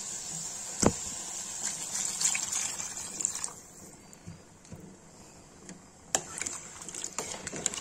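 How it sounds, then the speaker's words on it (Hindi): Water splashes and gushes into a pan of browned potato and soya chunk curry, with a sharp clatter near the start and another burst of pouring later, over a steady hiss. "गाइस देखिए भून गया, इसमें पानी डाल देंगे।"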